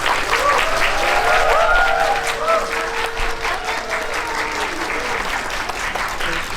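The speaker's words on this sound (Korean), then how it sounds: "큰 박수로 맞이해주세요" A film talk audience gives loud, sustained applause to welcome the director and two actresses, thick continuous clapping that runs for several seconds, with a few voices and cheers mixed in.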